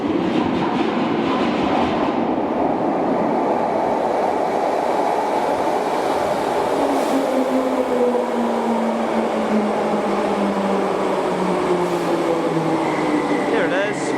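A Merseyrail class 507/508 train on the Liverpool West Kirby line rolls in with a steady rumble and a rising and falling electric motor whine, with faint rail clatter underneath and a voice speaking over it throughout.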